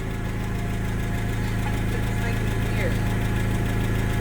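A Cummins engine runs with a steady, loud, deep rumble and constant vibration, holding a continuous low drone close by without clear rises in pitch.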